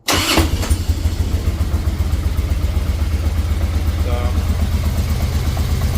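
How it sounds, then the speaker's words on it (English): A 2003 Harley-Davidson Road King with a freshly cleaned carburetor starts and settles into a loud, steady, close idle, its low thumping rumble running alone after a brief burst at the start. "I've been fighting to get this thing cranked, but finally we got there."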